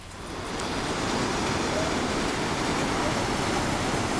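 Water trickling down through boulders in a rocky canyon, a steady broadband rush that swells in during the first second and holds evenly, with no voices over it.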